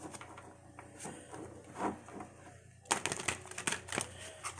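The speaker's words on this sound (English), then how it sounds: "I've got to give this deck a pretty good shuffle" Rapid papery riffling and flicking of a tarot card deck, a continuous close shuffling patter with a sharper burst of snaps partway through.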